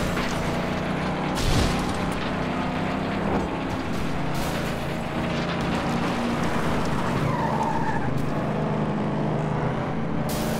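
A car revs and races in the Flatout 2 racing video game, a sustained loud engine drone with tyre skids and occasional impact thumps throughout, no speech.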